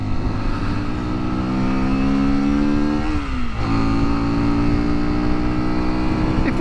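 Sinnis Terrain T125 motorcycle engine droning steadily as it climbs a hill, loud and close, the pitch dipping briefly midway before settling again.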